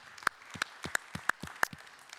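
Applause from an audience at an awards ceremony for wealth-management trophies, heard as scattered individual claps spaced apart over about two seconds, fairly quiet and with no talk over them.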